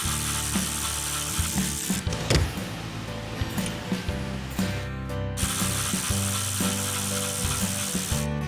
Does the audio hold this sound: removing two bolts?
yes